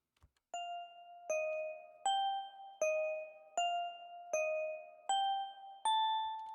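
An FM synth bell preset plays a four-bar pattern of eight clear, evenly spaced bell tones, each with a sharp strike and ringing decay, the final notes stepping slightly higher; no voices.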